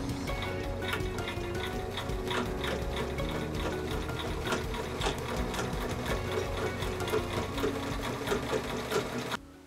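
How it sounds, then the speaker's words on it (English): A sewing machine stitches the hems of a fabric pencil case about 1/4 inch from the edge, a fairly quiet, continuous rapid whirring with a regular needle rhythm that stops abruptly at the end. "I'm just gonna sew this about 1/4 of an inch from the edge on both hems to hold them down"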